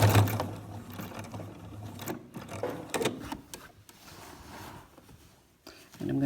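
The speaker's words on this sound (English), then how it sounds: "I'm going to sew right down where my chalk mark is to the corner of my quilt" A sewing machine stitches along a chalk line to the corner of a quilt star block, running in short bursts with pauses and a pivot, its motor whirring fairly close beneath light talk.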